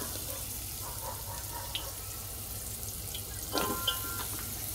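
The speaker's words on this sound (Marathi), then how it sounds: "कांदा छान परतून घेऊ." Chopped onion frying in a pan with hing and curry leaves for Maharashtrian dal khichdi: a steady, close sizzling hiss with a few brief clinks of stirring.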